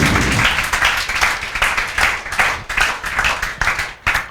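Students in a maths classroom clap together for a correct answer, producing loud, dense, rhythmic group clapping that carries on for several seconds.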